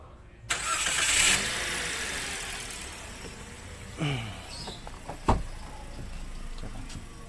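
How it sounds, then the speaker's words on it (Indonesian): A Toyota Calya's engine cranks and catches after a short silence, then settles into a steady idle, with a few clicks and thumps inside the car. "Coba Pak, hidupkan mesinnya terus coba koplingnya dulu."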